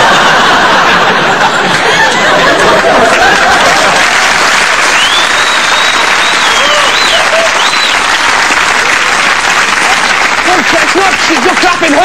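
Loud, sustained audience applause at a stand-up comedy show, dense clapping for about twelve seconds mixed with chuckles and laughter from the crowd.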